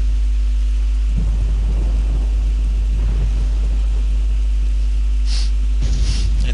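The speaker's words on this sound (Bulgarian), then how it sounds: "Сега тези колони от светкавици спират. Заедно с дъжда." Thunder and rain in the video game Black & White: a low, heavy rumble runs under a hum, with rain-like hiss and a couple of brighter crackling bursts near the end.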